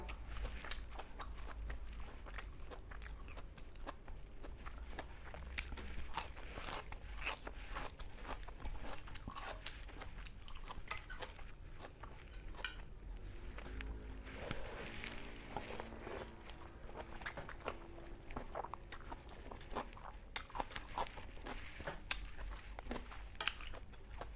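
Crunchy fried salted fish being bitten and chewed close up, a steady run of crisp crunches and mouth sounds continuing with no talk, alongside a spicy mixed papaya salad with snails.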